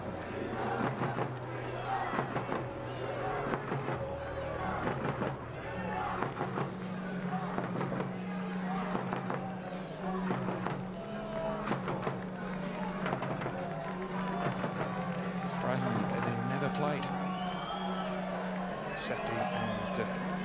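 French spectators at a Davis Cup tennis tie between Italy and France roar and cheer in a packed stadium, a dense, steady wall of crowd noise with claps and shouts, while a commentator talks over it throughout.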